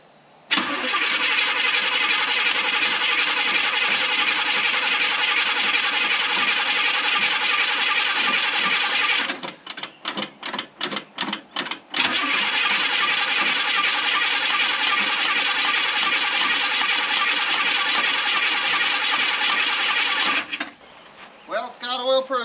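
A 1972 Chevy Suburban that has been sitting for some time cranks hard on the starter, loud and close, for about nine seconds, pauses with a few short bursts, then cranks again at length before cutting off.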